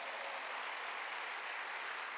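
A church congregation applauding during a Wednesday worship service, steady dense clapping from many hands filling the room without a break.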